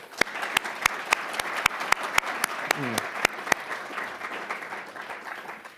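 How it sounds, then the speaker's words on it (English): An audience applauding athletes at the AAU James E. Sullivan Award ceremony: a steady roar of crowd clapping, punctuated by sharp, loud individual claps close by, continuing throughout. "one more round of applause for the athletes."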